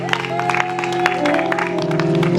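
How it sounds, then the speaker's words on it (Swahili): A church congregation claps for Jesus while music with sustained keyboard tones plays, scattered brisk claps rising over the steady instrumental backdrop. "Pigie Bwana Yesu makofi."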